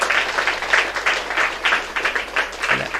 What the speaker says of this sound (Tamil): நல்லா அவருக்கு ஒரு கைத்தட்டு.